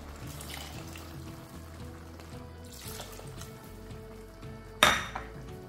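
Tomatoes and onions fry softly in a pot for a beans stew, a low sizzle under faint stirring and clinks of utensils, with one sharp clatter near the end.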